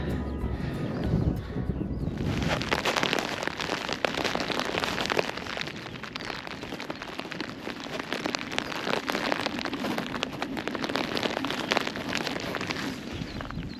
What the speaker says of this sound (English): Rain looks like it's probably set in now